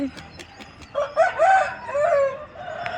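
A rooster crows once at a bustling rooster market in Vijayawada, the drawn-out call rising and falling over about two seconds, preceded by brief clucks and followed by faint background chatter.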